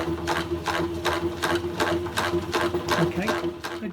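A honey extractor spins frames of honey with a steady motor hum and a fast, regular whooshing pulse, loud and close, about three beats per second.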